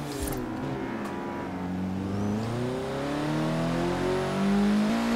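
A Honda Civic Type R engine revs and accelerates in Forza Horizon 3, rising and falling through the gears with a rasping exhaust tone, loud and continuous, climbing toward a higher pitch near the end, without talking.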